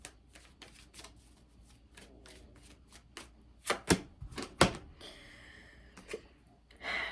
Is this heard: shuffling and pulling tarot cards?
yes